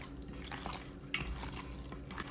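Broiler chicken being mixed with chilli powder in a bowl, soft close scraping and clinking of a spoon against the vessel, one sharper knock midway.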